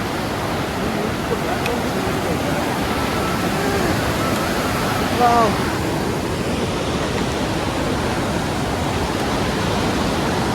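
Steady broadband rush of a fast-flowing river near Turtuk village in Ladakh, with an old bridge nearby, running continuously and evenly; a brief voice exclaims midway over the water.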